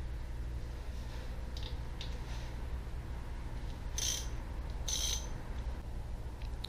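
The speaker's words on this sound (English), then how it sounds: "getting these bolts off here and here now" Ratchet clicks sound in short bursts while bolts are loosened during a Mercruiser marine engine teardown, two sharper bursts standing out over a steady low hum, with no talking.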